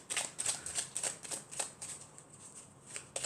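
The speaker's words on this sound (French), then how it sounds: "je vais prendre une carte de murmure de nos anges pour clôturer le tirage" Oracle cards are shuffled by hand, a quiet, rapid series of crisp flicking riffles repeating about every quarter second, close to the microphone.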